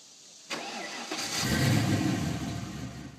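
A rusted 1985 Mercury Cougar engine starts with a sharp onset and rises into a rough, building mid-range rumble, close and fairly loud.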